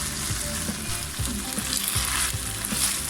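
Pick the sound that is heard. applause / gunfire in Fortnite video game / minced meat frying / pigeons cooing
minced meat frying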